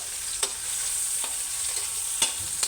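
Steady sizzling of hotdogs frying briefly in a pan, with a few sharp scraping clicks as they are stirred; no voices.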